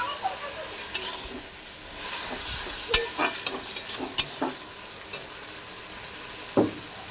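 Fried prawns stirred in a sizzling frying pan, a steady hiss broken by several quick scraping and clinking strokes of a spatula, loud and close.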